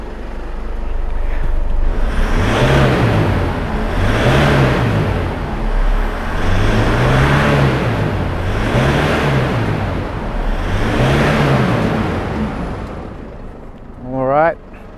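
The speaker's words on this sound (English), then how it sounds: "I'm gonna go rev the car now" A Ford Ranger 3.0 diesel pickup engine, blowing black smoke and hard to start, revs up and down in repeated surges, about five times, loud and close, with a rumbling idle between each rise.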